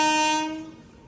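A goods train's horn blares close and loud, a rich sustained blast that fades away within about a second.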